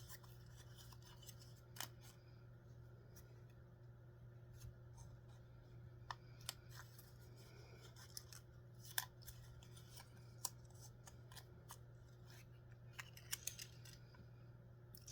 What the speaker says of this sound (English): this is the longest box folding